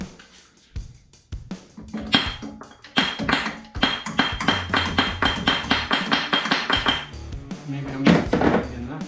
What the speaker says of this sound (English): I just have to try and hammer it some more.